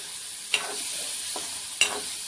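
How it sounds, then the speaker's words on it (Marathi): Bitter gourd is stirred and fried in a pan with onion and chilli, giving a soft, steady sizzle. Two sharp scraping strokes of the spoon stand out. "आता ह्या पूर्ण भाजूपर्यंत आपल्याला हलवत राहायचे"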